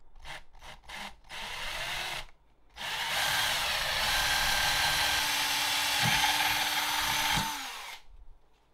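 Holes are drilled into a PC faceplate with a power drill, a few short bursts at first, then one long continuous whirring run lasting several seconds before the drill stops.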